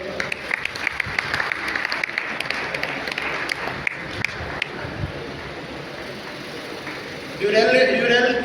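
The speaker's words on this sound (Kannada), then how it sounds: "ಇವರಿಗೆಲ್ಲರಿಗೂ ಕೂಡ ಇನ್ನೊಮ್ಮೆ ಜೋರಾದ ಚಪ್ಪಾಳೆ ಕೊಡಿ" An audience at a Yakshagana talamaddale performance claps steadily throughout, with the applause swelling louder toward the end.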